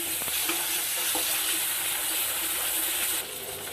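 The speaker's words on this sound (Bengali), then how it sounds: "রসুনটাকে ভালো করে কষিয়ে নেব আদা বাটা এটাকেও ভালোভাবে কষিয়ে নেব" Garlic and ginger paste sizzles steadily in hot oil, a close, continuous frying hiss with a few soft scraping stirs, easing slightly near the end.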